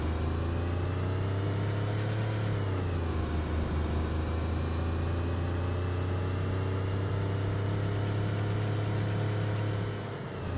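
A car engine in the video game DayZ hums steadily at a low, even pitch, with a brief dip and rise in revs early on, loud and continuous with no talking.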